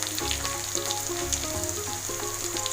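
Turmeric, red chili, coriander and other spices fry in a pan for South Indian sambar while being stirred, giving a steady, close sizzle with light scraping and no voices.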